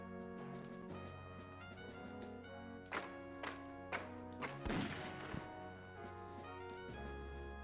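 Artillery fire from the PlayStation 1 game Panzer General, several muffled thumps and one louder crashing blast over a steady droning music bed, fairly faint.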